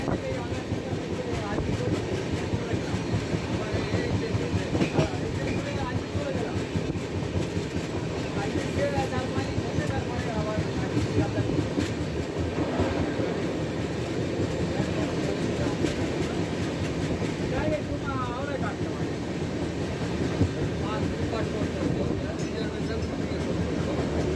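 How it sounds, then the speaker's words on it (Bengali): Sealdah Superfast Express train running at speed while overtaking the Jammu Express, heard from on board as a steady, loud rumble of wheels on rails with rattling carriages and faint clickety-clack throughout, voices murmuring in the background. "এই মুহূর্তে one three one five two Jammu এক্সপ্রেসকে আমাদের ট্রেন ওভারটেক করে চলেছে শিয়ালদা সুপারফাস্ট এক্সপ্রেস"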